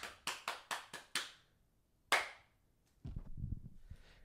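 One person claps his hands five times in a quick, evenly spaced burst, close and crisp, then adds a single louder clap after a pause, followed by some faint rustling.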